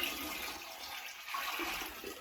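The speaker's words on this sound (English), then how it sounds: "dirty water into the toilet." Dirty wash water poured from a basin into a toilet, a steady close splashing gush that runs without pause and ends abruptly.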